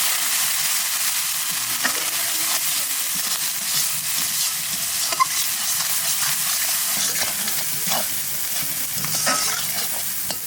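Masala of salt, turmeric and chilli powder sizzles and is stirred in a pan for a Bengali pomfret curry, with a steady close frying hiss and scraping spatula strokes throughout, no voices.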